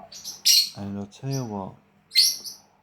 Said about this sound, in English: Again, sorry about the birds.